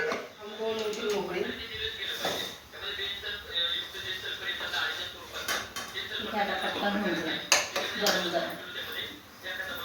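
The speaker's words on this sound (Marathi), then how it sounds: "आईचं चालू आहे भांडे जे जेवढं जेवढं पडेल तेवढं तेवढं ती भांडे घासते" Pots and dishes clinking as a mother scrubs them in a home kitchen, with intermittent metallic knocks and scrapes under steady nearby talk.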